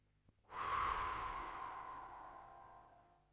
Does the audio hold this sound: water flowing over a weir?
no